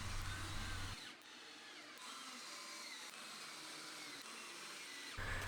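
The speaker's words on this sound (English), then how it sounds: "I drove some wood screws through the base of the wood and up into the table leg" A power driver sinks wood screws through an oak slab table base up into the table leg, giving a steady broadband whir with heavier motor bursts at the start and finish.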